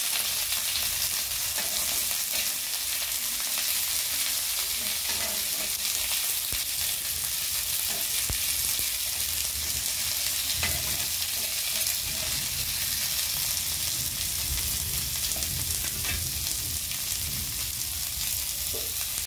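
Onion, garlic, green chili and ridge gourd peel fry in oil in a pan, giving a steady, loud, close sizzle with occasional stirring clatter, continuous throughout with no talk.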